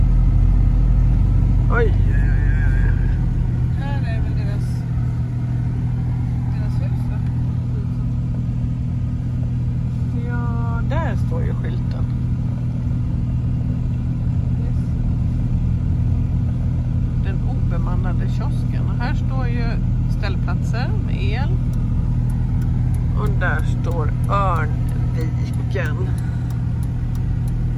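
Steady low road rumble from a car driving along a country road near a campsite in Östergötland, continuous throughout, with people chatting inside over the engine drone.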